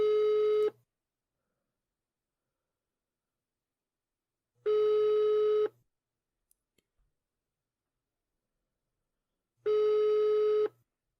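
A telephone rings over a speakerphone. Three long tonal rings about five seconds apart cut through silence, and faint clicks fall in the gap between the second and third rings.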